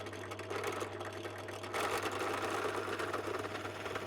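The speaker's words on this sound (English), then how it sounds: "so more holes need to be drilled." A power drill bores holes in the arm parts of a spice rack, a steady mid-pitched motor whine that grows louder partway through as the bit bites, with no talking.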